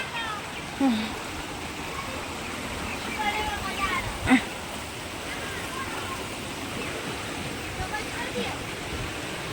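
A stream at a hidden ashram in Assam rushes over rocks where people bathe, a steady broadband wash of flowing water close by, with a few brief louder splashes and some talk underneath.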